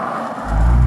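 The unmuffled engine of a rear-wheel-drive Panoz Roadster surges into a loud, deep, rising roar partway through a very brief, close burst of sound.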